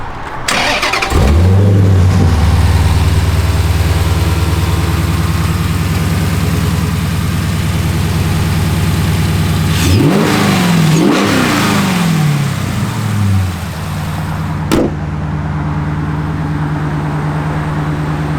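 A 2021 Dodge Challenger R/T Scat Pack Widebody engine cranks and fires up loudly nearby, settles into a deep rumbling idle, then revs hard a few times before dropping back to idle.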